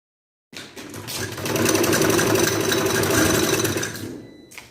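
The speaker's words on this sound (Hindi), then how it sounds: "पहले हल्का हल्का मोड़ते हुए इसकी फ्रंट साइड पे सिलाई लगा लूंगी" After a moment of silence, a sewing machine starts up and runs a fast, steady, close whirring stitch along the front side of a shirt, then slows and stops.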